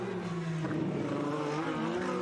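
Ayrton Senna's McLaren and Lotus Formula One cars race round the Monaco street circuit, engines screaming loud and sustained as a car passes close, with rising and falling revs throughout.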